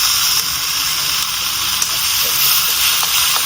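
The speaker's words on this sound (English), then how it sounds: "I'm frying the paste." Curry paste sizzles steadily in hot oil, a loud continuous hiss with faint crackles.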